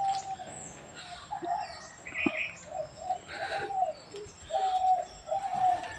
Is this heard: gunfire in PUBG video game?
no